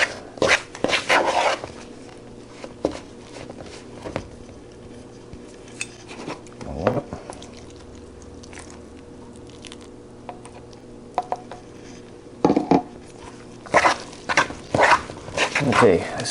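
Artisan bread dough stirred in a bowl until the dry ingredients are absorbed, giving intermittent scraping and clinking bursts of spoon against bowl, moderately close, with quiet gaps between strokes.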